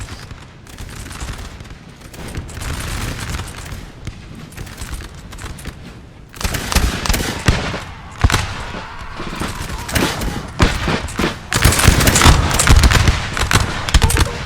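Massed musket volleys crackle in a Napoleon Total War 3 battle at Lubeck, 1806, dense ragged bursts of gunfire that build louder and sharper over time, with a distant rumble of battle beneath.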